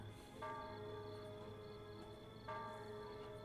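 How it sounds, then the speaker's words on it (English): Church bell tolling in the video game The Emperor's Own, two sustained metallic strikes about two seconds apart, each ringing out over a low droning ambient bed, moderately faint. "Did anyone else hear that? Sounded like a bell."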